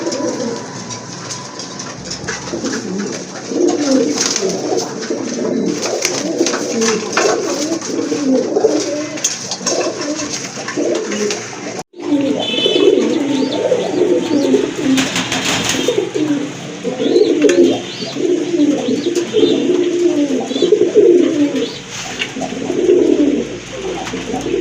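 A pair of large chila pigeons coo repeatedly in soft, throaty, rhythmic phrases close by, with other birds chirping faintly and a low rumble behind, one brief sharp knock midway.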